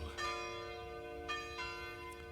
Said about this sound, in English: this wouldn't be a true, correct, and proper tribute to Redcoat's return without the bloody bells